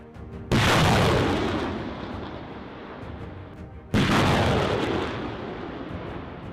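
British M270 MLRS rocket artillery fires in a strike, with two loud, sudden explosions a few seconds apart. Each blast rolls off into a long, rumbling decay, and no voices are heard.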